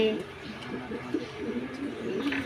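King pigeons at their nest, a female and a male sitting on eggs, coo softly in low repeated notes while a person talks over them.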